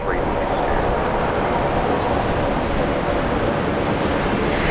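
A large aircraft on landing approach to runway 19 right at Brisbane Airport gives a loud, steady broadband roar that stays constant throughout, near and engulfing.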